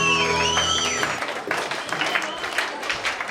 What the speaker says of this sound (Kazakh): Шапалақ қайда, қошемет қайда?